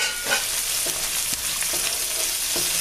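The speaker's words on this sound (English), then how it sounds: "we're going to cook that, stir fry it for a little bit till it invokes all these delicious flavors from the shrimp" Shrimp and shallot stir-fry in a pan with a continuous close sizzle, broken by soft scraping stirs recurring roughly every half second.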